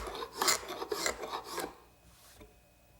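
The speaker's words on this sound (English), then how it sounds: "the excess is removed just using a hand scraper" A hand scraper rasps over the wood of a chair-table top, removing excess dried glue in several close, brisk strokes across the first half, then a quieter pause and one faint final pass.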